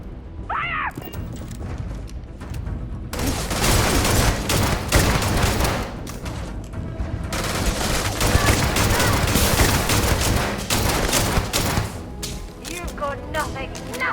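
Dense, loud gunfire rattles almost nonstop through a firefight in the video game Starfield, with volleys and crashes piling up, and shouting voices come through the shooting at times.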